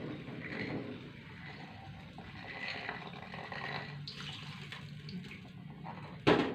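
Tap water pours into a pot in a kitchen while laksa is being cooked, a steady close rush that shifts in tone as the flow changes, ending with a short louder splash.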